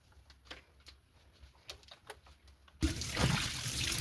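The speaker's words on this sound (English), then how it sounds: "I need to go refill my water." Water being refilled: a few quiet scattered taps and clicks, then a sudden steady rush of running water that continues to the end, fairly close.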